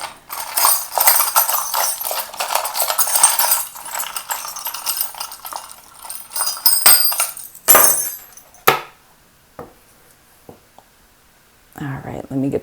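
Lucky charms are shuffled around inside a container, making bursts of clinking and rattling knocks, with soft whispering in between and quiet gaps toward the end.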